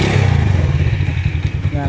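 A motorcycle engine sputters to life with a loud, rapid low chugging idle close by, its rhythm roughening slightly toward the end.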